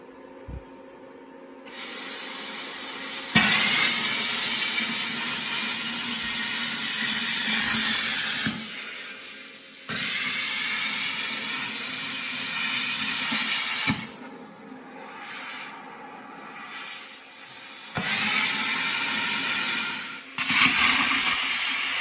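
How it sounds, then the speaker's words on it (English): Plasma cutter slicing through metal parts for a 20 hp shop tug: several long, loud, steady hissing bursts, each lasting a few seconds, separated by short pauses with a quieter background hum and clicks. "So we're gonna plasma cut the center out of these and the center out of these and weld that"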